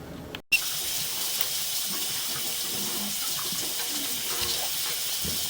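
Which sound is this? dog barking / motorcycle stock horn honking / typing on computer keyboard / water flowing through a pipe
water flowing through a pipe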